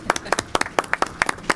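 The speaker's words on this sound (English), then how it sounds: "applaud him." A few meeting attendees at a city board session clap for a colleague's promotion, a sparse, uneven patter of distinct hand claps, close and brief, with some speech-like sound mixed in.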